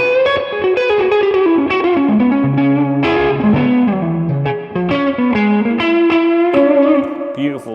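A semi-hollow electric guitar in the style of a 335, played in the middle pickup position through distortion and chorus effects: a continuous, loud melodic line of sustained notes and bends with reverb, no voices.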